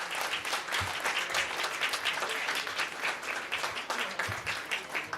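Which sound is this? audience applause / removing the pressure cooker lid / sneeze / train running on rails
audience applause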